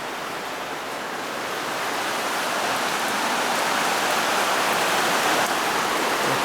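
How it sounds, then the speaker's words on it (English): Steady rain drums on an outdoor tarp in a dense, continuous hiss that swells slightly louder over the stretch, with no voices. "It's raining out here."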